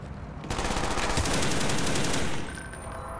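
A light machine gun in Call of Duty Black Ops fires a sustained rapid burst of about two seconds, loud and continuous, starting sharply and cutting off abruptly into quieter game ambience.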